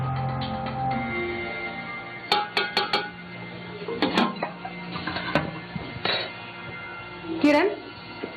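Dishes, pots and cutlery clinking in a home kitchen, a run of sharp metallic clatters and taps in short bursts over a low background hum.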